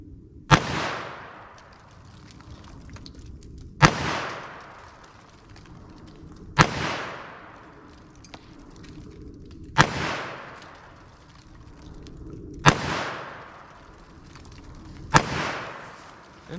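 Six loud revolver shots from a Taurus 856 with a 3-inch barrel, spaced about three seconds apart, each a sharp crack with a short decaying tail, fired alone at an outdoor range.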